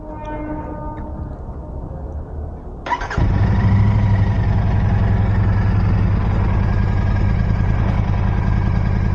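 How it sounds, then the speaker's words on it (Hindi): A Royal Enfield Continental GT 650 twin-cylinder motorcycle starts up after a quiet lead-in with faint ticking, then settles into a loud, steady, thumping exhaust note at idle, close by with no talking. "तो मैं आपको पहले इसके एग्जॉस्ट नोट सुना देता हूँ।"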